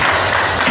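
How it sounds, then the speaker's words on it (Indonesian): Classroom applause in a school lesson, a dense steady burst of clapping from students heard briefly and fairly loud with no talk over it. "tepuk tangan"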